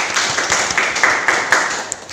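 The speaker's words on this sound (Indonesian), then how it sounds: "Beri tepuk tangan dulu anak-anak untuk Feliani." Schoolchildren in a vocational high school classroom in Gerokgak clap together, a brief burst of quick, uneven handclaps lasting about two seconds, close and fairly loud.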